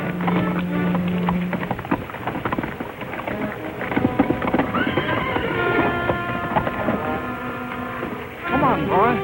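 Horse hooves clop under a busy mix of voices and music, with a short whinny near the end.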